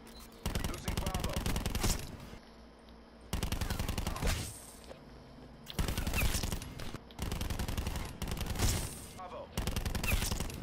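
Call of Duty pistol fire comes in several rapid bursts of loud, close shots separated by short pauses, mixed with game sounds.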